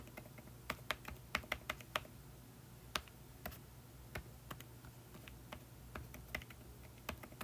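Someone typing an email address on a computer keyboard, a quiet run of irregular key clicks, some bunched in quick bursts and others spaced apart, close by over faint room hum.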